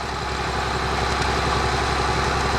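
An antique tractor engine idles steadily at a Northern Maine antique tractor plow day, a continuous close, loud rumble with no pauses or talk.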